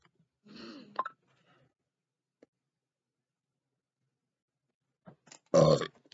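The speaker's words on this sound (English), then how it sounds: "I got burp." Two burps separated by a long silence, a short rumbling one first and a louder, fuller one a few seconds later, close to the mic.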